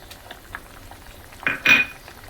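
Malvani masala tipped into a pan for sautéing while preparing Konkani pedi fish curry, heard as a couple of short metallic scrapes and clatters of a spoon against the pan over a quiet background.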